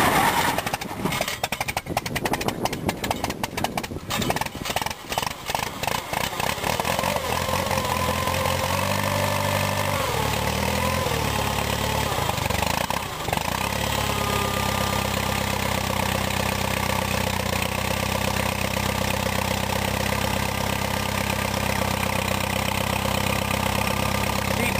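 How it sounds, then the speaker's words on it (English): A 1952 Case tractor engine idles steadily after a cold start, rough and uneven for the first few seconds before settling, with the hydraulic pump adding a constant high whine; loud and close throughout. "That's just the hydraulic pump screaming."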